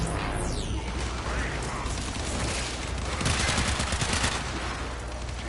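Dual pistols in Warframe firing rapidly, a loud, continuous clatter of shots mixed with mechanical weapon sounds and game effects, with no pauses.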